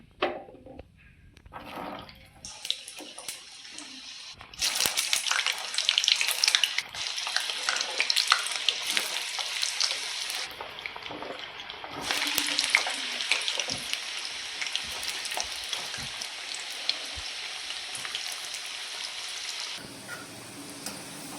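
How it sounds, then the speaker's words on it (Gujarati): Potatoes deep fry in hot oil with a loud, continuous crackling sizzle that swells and eases with occasional stirring, close by with no talking. "અને હવે બટેટા તળી લઈશું"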